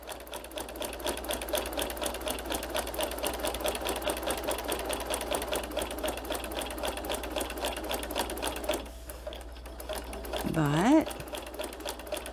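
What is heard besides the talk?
sewing machine stitching a quarter inch line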